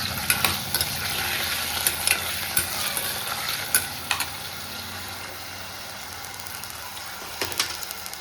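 Potatoes sauté in oil in a pan, with a continuous soft sizzle under repeated sharp clinks and scrapes of a spoon stirring against the metal at an uneven rhythm.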